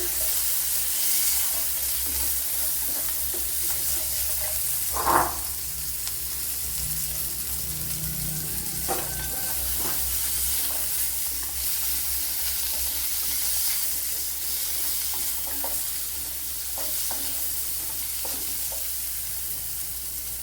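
Shallots and onion frying in oil in a pan with a steady, close sizzle throughout and occasional stirring clinks, one louder scrape near the middle.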